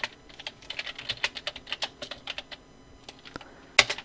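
Typing on a computer keyboard while entering text in Adobe Illustrator: a fast, uneven patter of close, crisp key clicks with one louder keystroke near the end, no voices.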